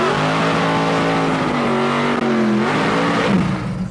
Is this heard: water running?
no